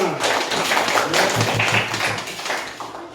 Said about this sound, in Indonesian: tepuk tangan dulu untuk kelompok 5